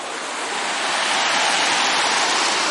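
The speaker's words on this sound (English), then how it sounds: "But this creek here comes from the cottage, from Long Lake." Creek flowing from a lake past a park during high water, a steady, full rushing wash of water close by, broadband and continuous without breaks.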